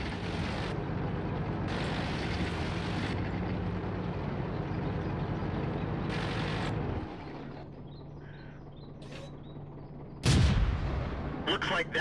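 Tank cannon fire in World of Tanks from a Churchill VII: a sharp, loud blast near the end following a steady engine drone, which drops off shortly before the shot.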